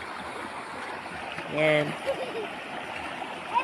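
Steady rushing of the Castillejos River in Zambales flows throughout, a continuous broad wash of water with a brief louder splash near the middle and faint voices now and then.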